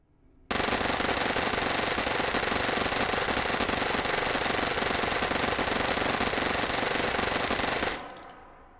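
Fully automatic gun firing nonstop in the Hot Dogs, Horseshoes & Hand Grenades VR game: one dense, loud sustained burst of rapid shots lasting about seven seconds, then cutting off into a short fading tail.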